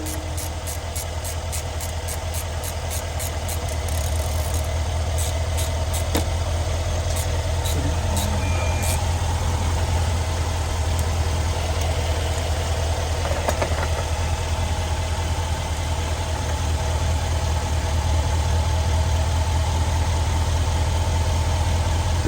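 A Mercedes GLS X166 engine idling steadily in a workshop, a constant low hum with some faint mechanical ticking on top, close by and without speech.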